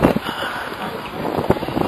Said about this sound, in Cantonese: 好大風啊今日